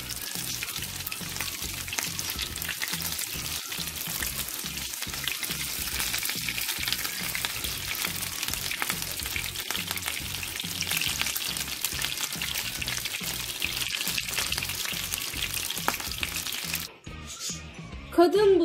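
Kadın budu meatballs fry steadily in hot oil, a dense continuous sizzle with soft rhythmic crackle throughout; a brief clatter near the end as the pan is handled.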